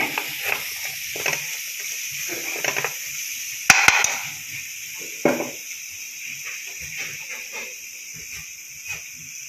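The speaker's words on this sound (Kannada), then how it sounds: "ಅದು ಸ್ವಲ್ಪ ಫ್ರೈ ಮಾಡ್ಕೋಬೇಕು ಹೀಗೆ" Grated coconut fries in a pan for a gojju, giving a quiet sizzle under a high-pitched hiss, broken by a few sharp spatula clinks and scrapes against the pan.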